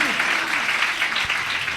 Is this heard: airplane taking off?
no